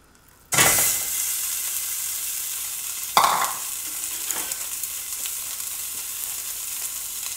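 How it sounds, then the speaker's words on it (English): Sausage drops into hot oil in a skillet for a pasta Alfredo and bursts into a loud sizzle, then keeps frying steadily with a couple of sharper crackles as pieces are stirred. "time to throw in our sausage now"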